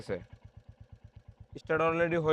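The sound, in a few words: Royal Enfield motorcycle engine idling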